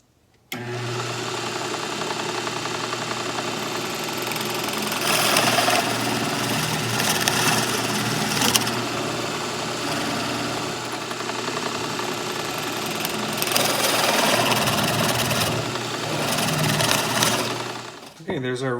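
A steady, loud mechanical whir of a power drill with a 7/8 inch spade bit boring a recess into a wood block runs almost continuously, with slight surges in pitch and intensity as it cuts.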